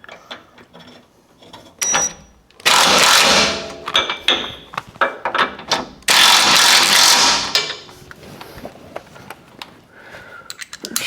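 A ratchet wrench tightens 17 mm tow hook bolts on a vehicle skid plate, giving rapid clicking bursts in two long runs separated by shorter clicks and handling clatter, close and loud.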